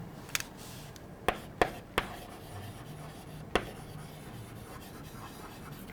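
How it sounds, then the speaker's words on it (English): Someone writes points on a classroom board, producing faint scratchy strokes punctuated by a few sharp taps and clicks spaced irregularly, close and quiet, with no talking. "let me just write that again"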